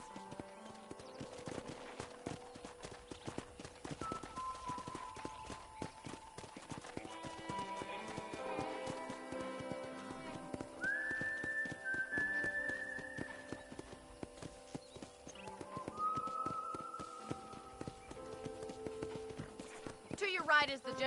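Rhythmic hoof clip-clops of a horse moving at a steady gait in Red Dead Redemption on PS5, with game music and a voice talking over it.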